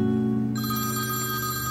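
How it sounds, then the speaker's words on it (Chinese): A phone rings nearby with a steady electronic ringtone of sustained tonal notes that shift pitch partway through, heard alone without talk. "对不起，我接个电话。"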